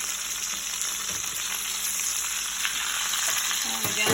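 Pork cutlets fry in a pan over medium flame with a steady, dense sizzle that holds at even loudness throughout, a few faint clinks near the end.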